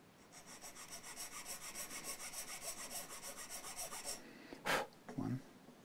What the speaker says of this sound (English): I'm going to use this 10 millimeter file to cut the first one.